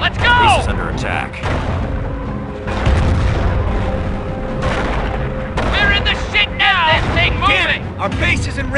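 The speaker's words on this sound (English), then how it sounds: "Our base is in range of the Kraut artillery. They're gonna keep pounding on us" Video game artillery and gunfire in a World War II campaign mission boom and crack loudly and densely, with whistling shells and chaotic battle noise throughout and shouted voices mixed in.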